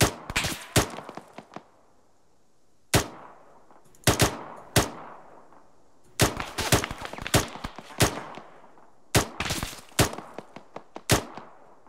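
Gunfire in Arma 3 Antistasi on the Virolahti map, sharp shots in short irregular bursts with brief pauses between volleys, loud and close, each crack trailing off into a short echo.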